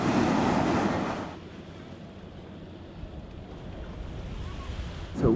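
River water washing against the riverside across from Lisbon, a steady broadband wash of small waves mixed with wind, louder in the first second and then settling into an even, moderate rush with no voices.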